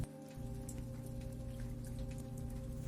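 Soft, steady rain patters and taps on window glass and cobblestone streets on a quiet evening, a continuous gentle hiss of drops with a low, even background hum throughout.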